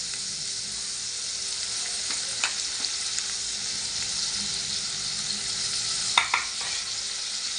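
Finely chopped onion sizzles steadily in a pan, a continuous bright hiss with a few soft stirring clicks, close and unbroken for several seconds.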